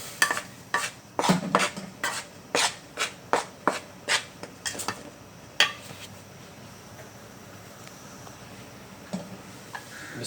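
Spoon knocking rhythmically against a bowl while oil and eggs are mixed into dough, about a dozen evenly spaced clacks that then thin out into quieter scraping.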